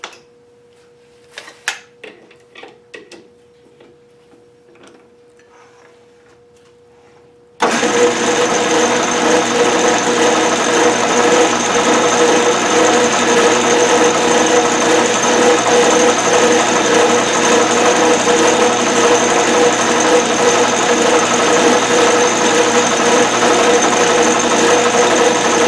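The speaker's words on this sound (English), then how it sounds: "So I'm going to just make a little mark there with a center drill." A center drill spinning on a lathe or drill press to put a tiny mark in the end of a metal scope height gauge, a steady loud whirring machine drone that starts abruptly after a quiet stretch of light handling noises.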